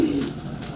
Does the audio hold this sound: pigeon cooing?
yes